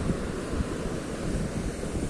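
Sea waves breaking on a shore, a close, continuous wash of surf with wind buffeting the microphone, steady and loud with no voices.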